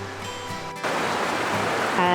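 Water rushes steadily through a rocky gorge, a broad, hissing flow close by that grows louder partway through, with a voice talking over it at the start.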